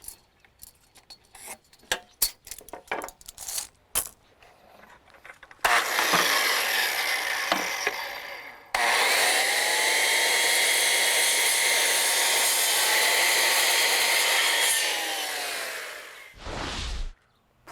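A power saw cuts a 1x4 wooden board into 16-inch lengths, with scattered clicks and handling knocks first, then two loud, sustained cuts close by, the second running several seconds before winding down.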